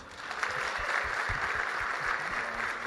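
Applause from the audience at a lecture for mayors, a steady crackling wash of clapping that stays moderately loud for a few seconds.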